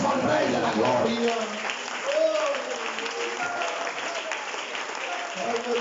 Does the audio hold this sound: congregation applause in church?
yes